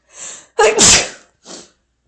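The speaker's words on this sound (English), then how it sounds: "Oh, I'm gonna sneeze." One person sneezes: a sharp intake of breath, a loud burst, then a softer exhale afterward. Close and clear.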